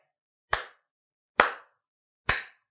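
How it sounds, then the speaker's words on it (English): Three sharp, isolated hand claps spaced evenly about a second apart, close and crisp with quick decays and silence between, offered for a children's church choir. "can we clap for them?"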